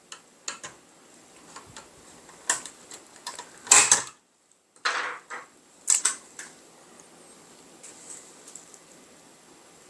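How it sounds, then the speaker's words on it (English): A pocket flathead screwdriver pries the plastic cover off a PS2 slim console, making sharp, sparse plastic clicks and snaps close up with quiet pauses between them. "Grab your pocket flathead. Pop it on the sides."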